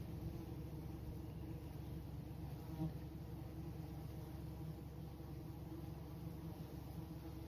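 Steady, dense buzzing of many honey bees close by in a backyard, a continuous hum with no pauses and a faint low rumble underneath.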